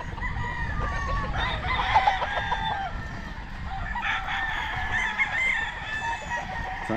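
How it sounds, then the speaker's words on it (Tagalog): Many chickens and roosters at a game farm cluck and crow together, a busy overlapping flock close by with repeated crowing calls rising over constant clucking, in light rain. "Ang daming manok."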